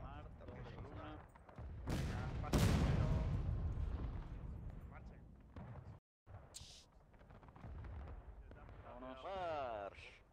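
Cannon artillery fire in the Civil War video game War of Rights, with heavy, loud booming blasts landing in quick succession early on, then a rumbling battlefield din with scattered shots and voices underneath.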